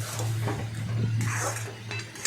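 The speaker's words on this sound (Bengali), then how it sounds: "দিয়ে ভালোভাবে নাড়াচাড়া করলাম" Ghugni masala stirred in a pan, a metal spoon scraping and clinking against the pan in quick strokes over a low steady hum, close and moderately loud.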